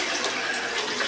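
Tap water runs steadily from the faucet of a MyAqua 1900 water filter unit, a continuous close hiss and splash with no talk over it.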